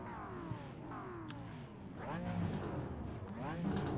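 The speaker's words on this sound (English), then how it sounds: "These are all their V8s." V8 GT4 race cars at Oulton Park in iRacing, engines rising and falling through gear shifts with sweeping pitch changes, faint and continuous, with someone talking over them.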